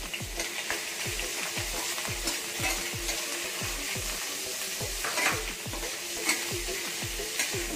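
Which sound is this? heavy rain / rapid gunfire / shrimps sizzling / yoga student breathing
shrimps sizzling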